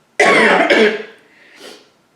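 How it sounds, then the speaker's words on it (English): A single sharp, loud cough from a persistent cough of unknown cause, close to the microphone, a quick double burst followed by a softer breathy catch. "I just cough."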